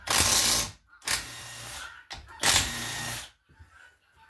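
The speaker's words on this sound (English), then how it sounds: "you can get your 8mm regular socket in here and just get them out" An 8mm socket and ratchet remove the transmission pan bolts on an 8L90 transmission, giving three short bursts of close mechanical whirring and clicking separated by silent gaps.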